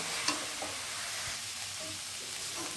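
Radish greens stir-frying in a pan over a low-to-medium flame, a steady soft sizzle with scattered scraping and stirring knocks throughout, no talking.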